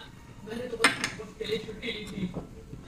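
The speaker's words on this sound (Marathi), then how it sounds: "आता आपण बेसन पीठ छान असं मिक्स करून घेऊया." Gram flour (besan) batter is mixed in a bowl with a utensil, giving soft scraping and a few light clinks against the bowl, quiet and close, with faint talk in the background.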